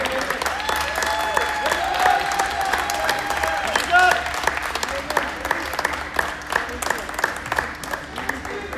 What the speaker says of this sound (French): un maximum de bruit et d'applaudissements pour nos arbitres